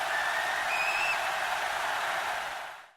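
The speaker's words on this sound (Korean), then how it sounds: "박수 한 번씩 치겠습니다." A steady wash of applause during a Korean stock-market live broadcast celebrating a Monday rebound. The clapping stays loud and continuous, a thin whistle-like tone rises briefly above it, and the sound fades out at the end.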